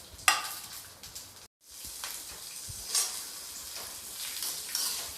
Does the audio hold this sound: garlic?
yes